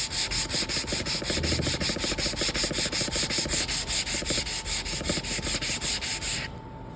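Wood is hand-sanded with 120 grit sandpaper along the grain, making a steady, close rasping rub in quick, even back-and-forth strokes that continue without a break until a sudden stop.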